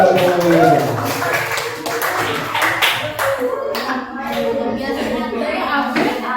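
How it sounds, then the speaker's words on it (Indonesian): Students in a classroom clap for a presenting group, with scattered, uneven claps carrying on under chatter and children's voices throughout. "Silakan berikan tepuk tangan untuk kelompok Mobile Legends"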